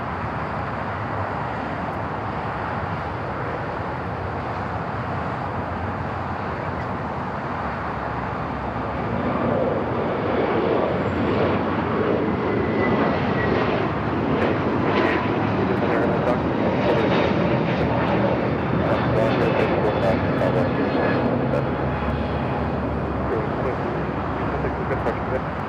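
A jet airliner lands on runway 25 left at Los Angeles LAX airport, its steady roaring engine noise swelling in loudness partway through and holding as a broad continuous rumble.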